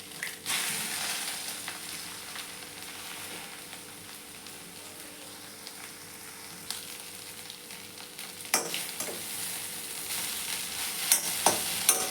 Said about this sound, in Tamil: இந்தளவு நல்லா வதங்கினதுக்கப்புறம் நம்ம முட்டை உடச்சி ஊற்றிக்கலாம்